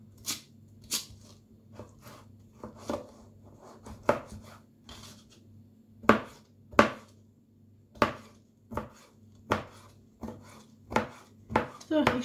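Knife chopping cucumbers and tomatoes for a salad on a cutting board, crisp close-up cuts landing in an irregular rhythm of about a dozen strikes over a low background hum.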